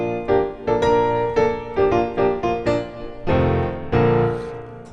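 The melody of "Hail to the Chief" is played on a keyboard-like instrument as a few measures of distinct sustained notes and chords. The phrases are clear, with a fuller chord swelling near the end.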